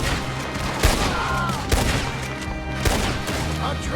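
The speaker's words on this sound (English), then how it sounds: "Guess we're shooting then." Gunfire in a Red Dead Redemption 2 shootout, sharp close shots cracking about once a second over a busy, noisy background.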